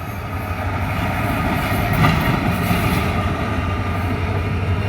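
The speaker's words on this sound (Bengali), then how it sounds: "এ দেখুন ঢাকা থেকে কক্সবাজারের তৃতীয় ট্রেন আসছে" A train from Dhaka rolls into Cox's Bazar with a steady rumble and clickety-clack of wheels over rail joints, close and continuous, swelling slightly midway, with no talking.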